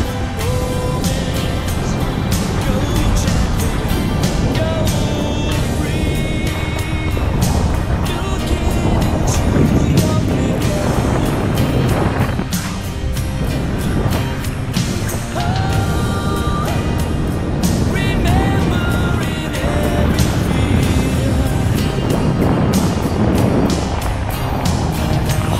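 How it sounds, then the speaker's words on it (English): A speedboat towing a parasail at Nuevo Vallarta gives a loud, steady engine drone mixed with heavy wind buffeting on the microphone, continuous throughout. "Speedboat action."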